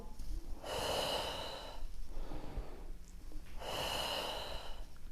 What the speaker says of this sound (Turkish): Nefes al, ver.